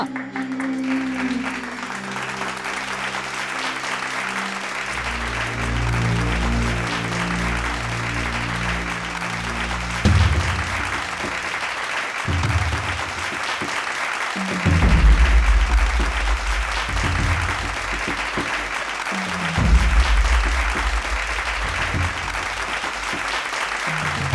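An audience applauds steadily and loudly for about twenty-four seconds, a dense wash of clapping with music rising and swelling underneath at a ceremony announcing the day's best singer.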